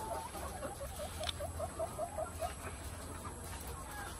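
Inside a poultry building, a chicken gives a quick rhythmic run of about ten clucks, fairly close, over a low steady fan hum with faint calls from other birds around it.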